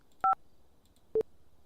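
Phone keypad tones in GTA 5: two quick dual-pitch beeps close together, then a single beep about a second later, clean and close over near silence.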